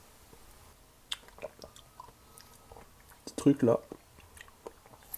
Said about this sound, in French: Mais j'aime bien croquer. Mâcher.